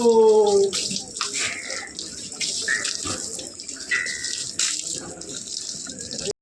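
Steady rush of running water splashing into a cattle trough where buffaloes drink, close and continuous, with a short tonal call at the start and faint background sounds.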